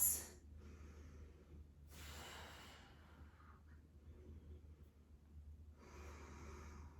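During a yoga session, slow breaths come close and soft: a sharp inhale, then a longer airy exhale, a pause, and another long breath, with no one talking.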